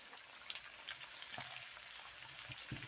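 Spring onions frying in a pan for steak fried rice make a soft, steady sizzle with small crackles and occasional stirring clatter. The sound is faint and nobody speaks.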